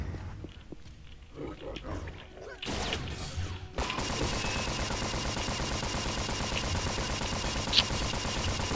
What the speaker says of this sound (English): Most of the shots don't connect when using Stinger